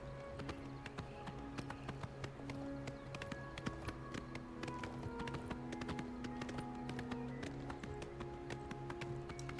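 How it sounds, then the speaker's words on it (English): Steady galloping horse hoofbeats in the video game Oblivion, a quick continuous clip-clop rhythm, up close over a soft droning background. "It's so easy to get across the land with the horse, huh?"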